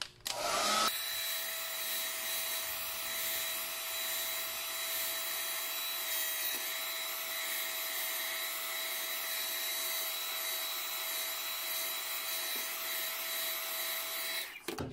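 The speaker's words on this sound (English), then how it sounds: "Okay, here's my heat gun. It's going to be loud" A heat gun blows steadily and loudly at close range for about fourteen seconds, a constant airy roar with a fixed whine, starting abruptly after a brief click and cutting off at the end.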